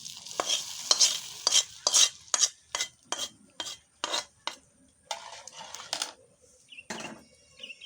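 Dal being tempered with garlic and onion in hot oil, heard as a series of sharp, close stirring scrapes in a steady rhythm, with sizzling and clinks of a pot underneath and no talk.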